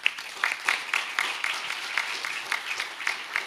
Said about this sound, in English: you can have people clap for you